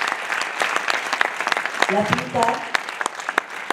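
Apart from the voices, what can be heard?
audience applause at closing ceremony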